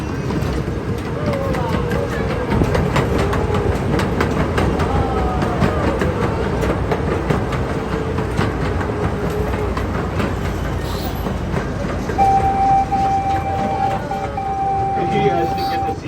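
A small zoo train at Vancouver Zoo rolls along the rails with steady rumbling and clatter, a squealing tone creeping in near the end; voices murmur faintly beneath.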